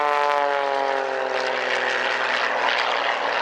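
An XtremeAir XA41 aerobatic propeller plane pulls up into a vertical climb at an airshow, its engine a loud, steady, close drone with a slowly shifting pitch and no talk.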